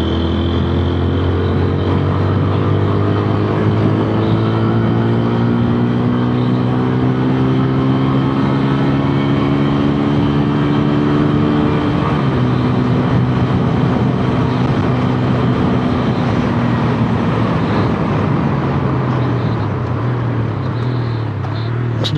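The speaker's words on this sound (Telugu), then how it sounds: "స్లిప్పర్ క్లచ్ చూసారా ఎంత ఫాస్ట్ డౌన్ షిఫ్ట్ చేసినా మనకి వీల్ లాక్ అవ్వలేదు, హాప్ అవ్వలేదు." A TVS Apache RTR 160 4V motorcycle engine revs loudly up close, its pitch stepping down through quick downshifts with the slipper clutch, a steady roar lasting throughout.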